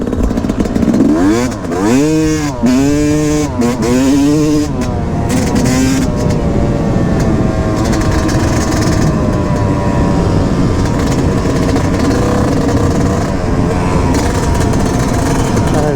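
A KTM 350 XCF four-stroke dirt bike engine drones steadily throughout while riding, revving with rising and falling pitch sweeps early on, then holding a loud, close, continuous roar.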